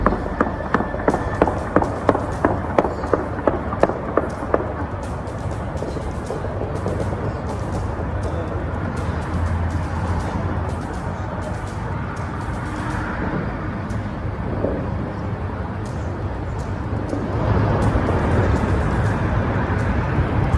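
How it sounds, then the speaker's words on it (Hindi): Automatic rifle fire in Beirut opens with a rapid rhythmic burst of sharp shots, then gives way to a steady, dense background rumble with scattered distant cracks. "पूरे शहर में ऑटोमेटिक फायरिंग की आवाज़ आ रही है, यानी कि ऑटोमेटिक राइफल से जो गोलियां दागी जा रही है उसकी आवाज़ आ रही है।"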